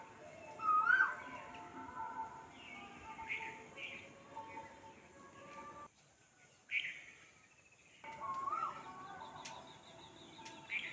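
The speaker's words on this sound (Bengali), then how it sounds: "দেখো বন্ধুরা, কোকিল ডাকছে।" An Asian koel calls outdoors in repeated tonal notes, not far off, over faint music from loudspeakers playing Kali Puja songs nearby.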